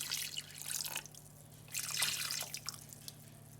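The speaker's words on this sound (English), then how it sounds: "I'm going to add 2 cups of water." Water poured into a pot of turkey wing pelau, two bursts of splashing, bubbling liquid separated by a brief pause, close and moderately loud over a steady low hum.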